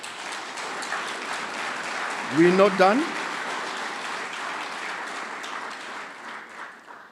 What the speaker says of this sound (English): Can we please give an applause?